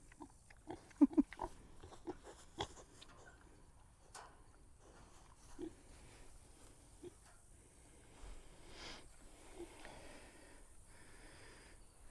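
Pigs in a homestead pen built from cattle panels grunt and snort softly, with scattered short snorts and shuffling movement at a quiet, moderate distance.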